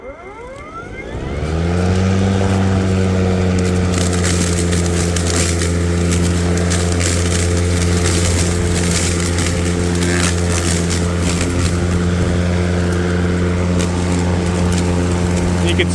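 An EGO battery lawn mower spins up from rest to full speed and holds a steady, loud whine while mulching leaves, with crunching and rustling debris on top of the motor tone.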